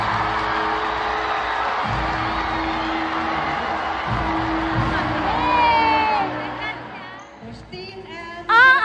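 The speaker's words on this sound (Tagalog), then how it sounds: "Pinakamalalakas kasi ang palakpakan at hiyawan para sa kanya." Senior high school students at Palawan National School in Puerto Princesa City cheer and shout loudly in a large hall for a graduating student, the roar building then easing toward the end with brief shrieks.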